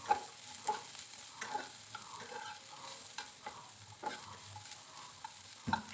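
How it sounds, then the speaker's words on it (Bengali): Vegetables being stir-fried in a pan, a quiet low sizzle under repeated soft scraping and tapping of a spatula at an uneven rhythm, close but faint, with no speech. "সবজিগুলোকে এভাবে নেড়ে চেড়ে বেশ ভালো করে ভেজে নিতে হবে।"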